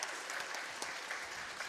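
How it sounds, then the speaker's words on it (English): Audience applause during a speedrun marathon event, a steady dense wash of clapping from a crowd, continuous and fairly close, with no talking over it. "You can clap."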